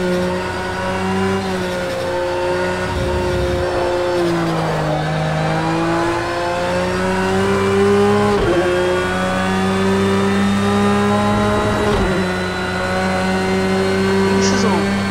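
A racing car in Project CARS 2 holds a loud, buzzing engine note that climbs through gears and drops sharply at each shift, repeating across the stretch as the car runs flat out, with a voice talking faintly underneath.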